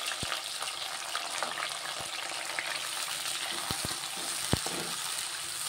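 Sliced onions and green chillies frying in hot oil for a cauliflower curry, a close, even crackling sizzle running throughout with a few sharp clicks of a spoon against the pan.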